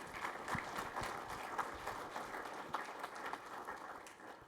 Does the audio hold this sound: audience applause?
yes